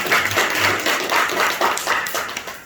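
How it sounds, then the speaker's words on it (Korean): A church congregation at a Sunday worship service claps in welcome, a close, steady burst of many hands with a regular pulsing rhythm throughout. "우리 환영의 박수"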